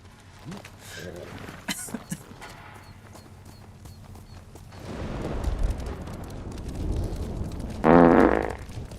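Short, loud fart sound in the video game Ghost of Tsushima, bursting out near the end after a stretch of horse hoofbeats and game ambience, with voices talking earlier.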